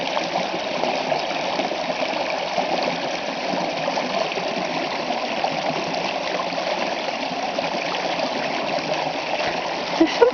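A snowy stream with ice forming around objects jutting from the water flows steadily, a continuous close rushing and trickling wash that stays even throughout, with a faint knock near the end.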